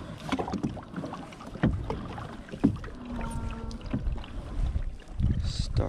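A kayak paddled through water while fishing, with soft irregular splashes and sloshing over wind noise and faint handling sounds.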